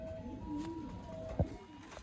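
Black-faced Sialkoti pigeons give soft, low cooing, a few brief rolling coos, quiet and near, with a single dull thump partway through.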